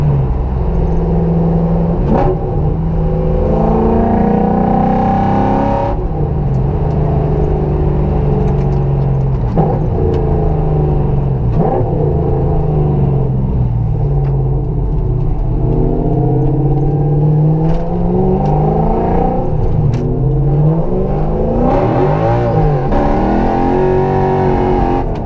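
A drift truck's engine revs hard under full throttle, a loud, steady, raspy roar filling the whole stretch with rising and falling pitch sweeps as it accelerates, close and continuous with no voices over it.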